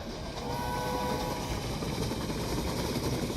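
A train runs in the Railway Empire Great Britain & Ireland simulation game, giving a steady rumbling roll with faint clattering under a constant hum and no talking.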